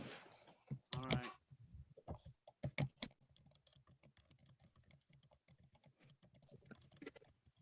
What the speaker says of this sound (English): I was typing as fast as I could in the chat